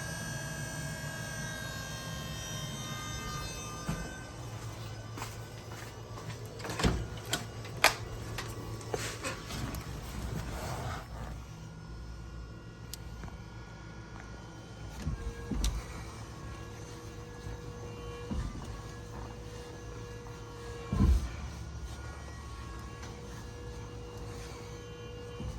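An electric power steering pump fitted to a 1997 Mitsubishi Eclipse GSX runs as a faint, steady whining hum with scattered clicks and knocks over about twenty-five seconds, no speech.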